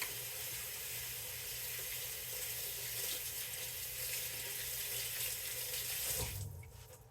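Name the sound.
water running from kitchen tap, rinsing hand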